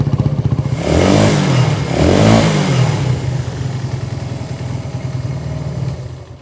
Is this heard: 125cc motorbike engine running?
yes